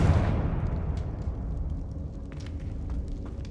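A Confringo fire spell explodes in the Hogwarts Legacy video game: one heavy low boom at the start that rolls off into a long rumbling tail, with faint crackles as it dies away.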